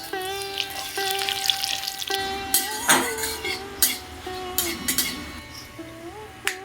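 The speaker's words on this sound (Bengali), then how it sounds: "এবং শুকনো লঙ্কা আর পাঁচফোড়ন তেলের মধ্যে দিয়ে দেবো" Dried red chillies and panch phoron sizzle in hot oil with a steady crackle and a few sharp pops and utensil clinks, with a melodic tune playing in the background.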